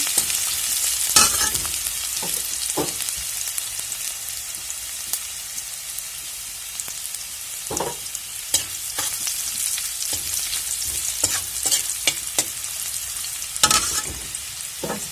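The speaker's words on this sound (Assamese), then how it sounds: "পিয়াজটো ৰংচ হোৱালে অলপমান ভাজি লম।" Onions frying in a pan of hot oil with cumin, a continuous crackling sizzle broken by repeated spatula scrapes and clinks as they are stirred, no speech.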